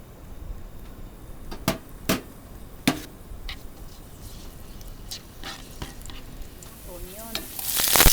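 Garlic frying in two tablespoons of cooking oil in a pan gives a steady close sizzle, punctuated by several sharp clacks of a utensil against the pan and a louder hiss near the end.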